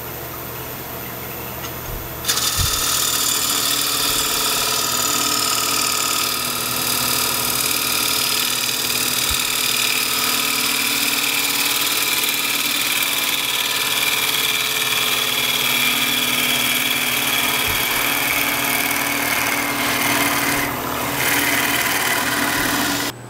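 A wood lathe spins a square cottonwood burl bowl, a steady close motor whine and hum that jumps to a louder, higher running tone after about two seconds and holds evenly, with a few faint knocks and no speech.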